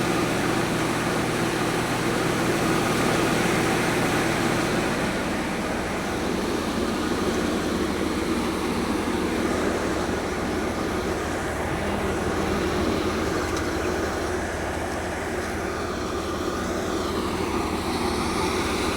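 A tractor-driven thresher threshing millet in a farm field drones loudly and continuously, a steady mechanical roar with no voices.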